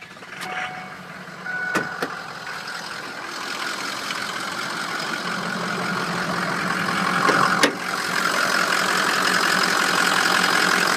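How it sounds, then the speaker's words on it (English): A 2004 Ford F250 diesel 4x4 truck idles under the open hood, a steady broadband engine rumble that grows slightly louder over time, with a couple of sharp clicks or beeps near the start. "I'm going to fire this thing up so you can hear under the hood."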